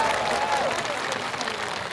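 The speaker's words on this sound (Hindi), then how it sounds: "राष्ट्रीय अध्यक्ष के सम्मान में तालियां बजना चाहिए" Dense crowd applause at an outdoor political rally, loud and continuous, with steady clapping and a faint voice briefly audible over it.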